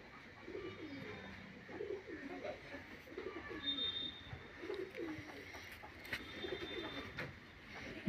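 Pigeons cooing in a loft, soft repeated low coos in a loose rhythm close by, with occasional faint chirps and a little quiet background talk.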